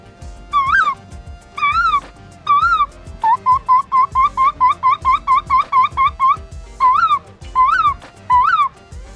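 A boy imitates a koel bird call with his voice, giving repeated rising whistled calls in bursts, first spaced apart, then a fast even run, then spaced again, loud and close with no other talk.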